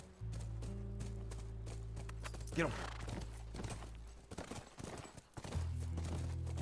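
Horse hooves clip-clop in The Last of Us near a ranch, a steady rhythmic plodding set against low game ambience, with voices talking over it and the footfalls thinning out toward the end.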